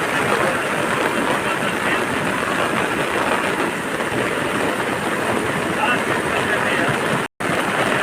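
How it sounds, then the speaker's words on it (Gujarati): Torrential monsoon rain in Gir pours down with rushing floodwater, a dense, loud, unbroken roar that fills the whole stretch, cut by one brief dropout near the end. "જોરદાર વરસાદ છે ત્યાં"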